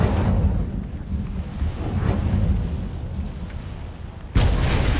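A rumbling fire-spell blast from Hogwarts Legacy, a loud, sustained roaring burst with a sharp fresh surge near the end.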